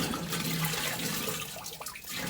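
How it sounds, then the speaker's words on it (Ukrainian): Water being poured into the tank of a tractor-drawn two-row cabbage planter in a field, a steady noisy rushing pour that continues throughout, close and moderately loud. "Переливаю з пустого порожнього. Заливаю воду."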